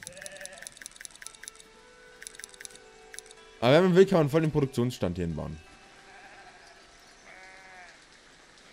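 Sheep in the video game Foundation, including a black sheep, let out a loud burst of repeated bleats midway. Before and after it, quieter game chimes and someone speaking German are heard.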